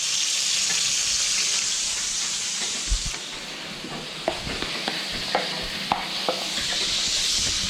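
Lamb chops fry in a pan with a steady loud sizzle and hiss, broken by a few sharp pops and spatters near the end.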